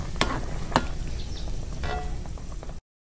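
Beef pares being stirred in a hot pan, a steady sizzle with a few sharp scrapes and clicks of the utensil against the pan.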